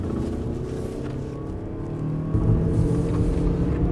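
A 2024 Lexus RX450h+ plug-in hybrid SUV driving in sport mode, its steady low rumble of engine and road noise swelling slightly louder partway through, with no talking.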